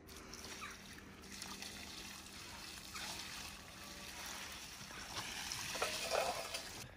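Water is poured onto dry farm dirt while building a bike track, giving a faint, close trickling and splashing that wavers with a few brief spatters over a quiet background.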